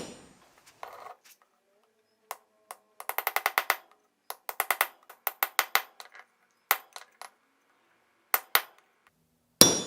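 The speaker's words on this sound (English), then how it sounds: "on this first heat here, I'll just really take my time and chisel in a nice straight line" A hot chisel is hammered into forge-heated steel to mark a seax blade, with sharp, ringing metallic strikes coming in clustered bursts of rapid blows separated by pauses, close and loud against a quiet background.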